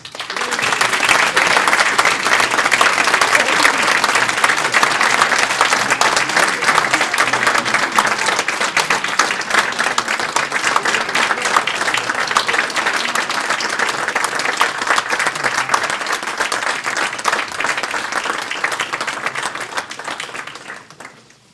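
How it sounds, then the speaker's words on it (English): Sustained, loud applause from an audience at the 2012 Windsor Shad Derby gala, greeting the Shad Derby Queen candidates; dense steady clapping runs for about twenty seconds before trailing off. "we would first like to give a big round of applause and welcome our 2012 Shad Derby Queen candidates"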